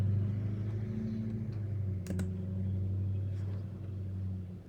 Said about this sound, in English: I just knew that truck was going to be very, very loud.